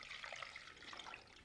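Water is poured into granite texture paint material. It makes a soft, steady trickle and splash, faint and close, with no talk over it.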